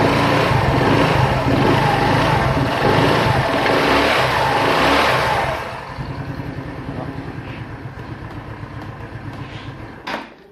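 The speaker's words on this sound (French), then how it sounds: "نوريك un petit peu le moteur." A Lifan 150cc C12 motorcycle engine runs close by with a loud, rough, steady roar that eases to a lower idle-like chug partway through, then ends with a short knock.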